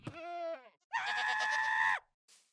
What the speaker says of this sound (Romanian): Una din astea țipă. Și țipă foarte tare. Deci am un screaming goat